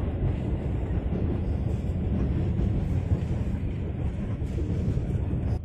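Continuous rumbling roar of a KA Motis Selatan train on the Jakarta–Bandung line moving through a narrow single-track tunnel, steady and loud throughout, with rattling wheels and no voices.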